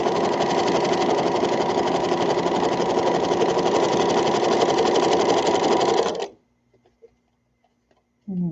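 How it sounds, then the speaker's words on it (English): Sewing machine stitching a toddler peasant dress, a steady loud whir running continuously for about six seconds before stopping abruptly, followed by a few faint clicks and a brief return of the motor at the end. "I'm coming around to that side where I'm going to sew past where I started."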